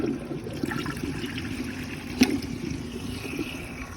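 A 1965 lavender Rheem Claymore toilet flushing, a steady rushing and trickling of water with a brief clunk midway, fairly close and alone without speech.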